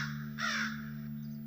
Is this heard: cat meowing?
no